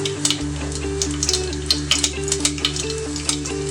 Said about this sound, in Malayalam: നമുക്ക് ഉണക്കമുളക് ഇട്ട് കൊടുക്കാം.